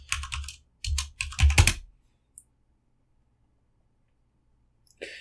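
Quick bursts of keystrokes on a computer keyboard as a code is entered, a few clustered clacking runs in the first two seconds, then near silence with one or two isolated clicks, close and fairly quiet.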